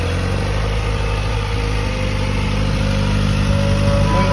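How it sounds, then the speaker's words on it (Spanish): Kawasaki ZX-4RR four-cylinder motorcycle fitted with an Akrapovic exhaust, idling steadily up close with a smooth, even hum and slight rise in revs near the end. "qué mejor que esta ZX4RR para mostraros lo bien que aúlla este 4 cilindros"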